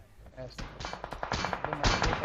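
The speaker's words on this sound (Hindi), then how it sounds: "जिस हिसाब से ये गोली चली है ना" Rapid bursts of gunfire from a PUBG Mobile match, loud and close, with irregular volleys of sharp shots building into denser fire toward the end, alone without talk.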